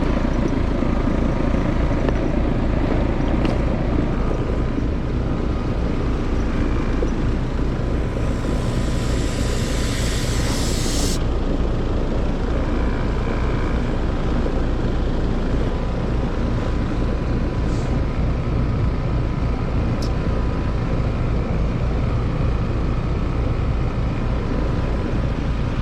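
A loud, failing compressor running continuously, a heavy steady mechanical drone with rough low rumble close by, and a brief higher hissing swell partway through with no voices.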